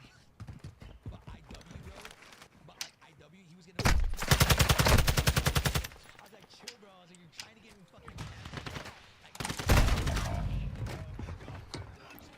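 Call of Duty gunfire comes as two long bursts of rapid automatic fire, loud and dense, between quieter stretches of scattered game sounds, footsteps and a speaking voice.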